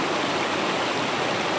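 A village river flows with a steady, dense broadband rush of water, close and constant throughout with no voices.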